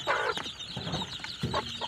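Hens kept in a cage with their newly hatched chicks cluck in short, separate bursts, close by and moderately loud, with no voices.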